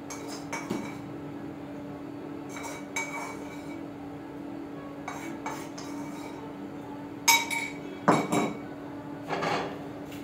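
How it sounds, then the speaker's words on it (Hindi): Almonds and rice pounded into a paste with a mortar and pestle: scattered bursts of clinking, knocking strikes, some spaced apart and others in quick clusters, fairly quiet over a low steady hum. "इसी पेस्ट के अंदर हम ये चावल ऐड कर देंगे और इनका भी हम अच्छे से पेस्ट बना लेंगे कूट कूट के"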